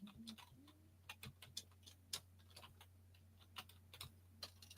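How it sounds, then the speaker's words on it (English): Keys tapping on a computer keyboard in a quiet room, irregular clicks and short bursts spaced across the moment over a low steady hum, close and soft. "She hears you typing."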